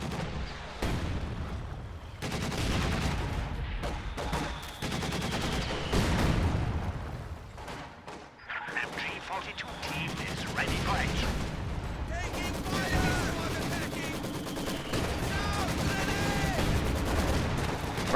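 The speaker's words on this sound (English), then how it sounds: "High explosive barrage from the AT gun trying to put pressure on the infantry in this trench" Artillery barrage, explosions and gunfire from an anti-tank gun, Maxim and DShK machine guns and rifle grenades in a Company of Heroes trench battle, dense and continuous with overlapping booms and bursts, under a steady game soundscape.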